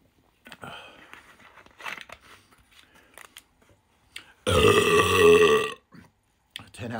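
A loud, gurgling burp of over a second follows a drink of Lucozade orange, standing alone after quieter rustling and brief talk.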